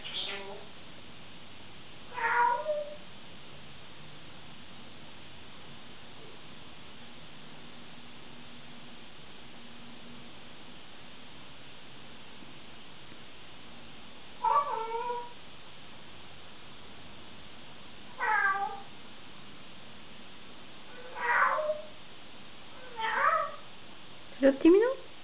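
An African grey parrot imitates a cat's meow: several short, rising meow-like calls come at irregular intervals over a steady low hiss, with more bunched together toward the end.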